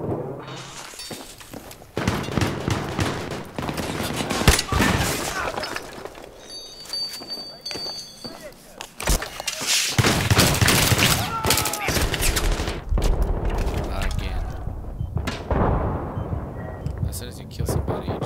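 Video game gunfire from an online shooter: bursts of automatic fire and single shots rattle loudly and repeatedly, with pauses between volleys and a voice talking over parts of the action.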